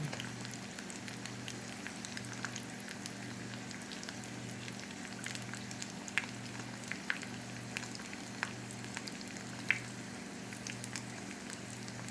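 Food crisping on its underside in a hot pan, a low steady sizzle with scattered sharp pops and crackles and a faint rhythmic hum underneath, no voices.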